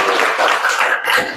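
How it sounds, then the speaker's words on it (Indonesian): A classroom of students claps for a classmate, with brisk, close, steady applause throughout the short burst. "Kasih tepuk tangan untuk Sanjano."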